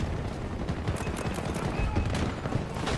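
Turret gunfire in Battlefield 2042 sounds as a steady, dense stream of rapid shots and rumbling impacts with no clear break, loud and busy across the whole stretch.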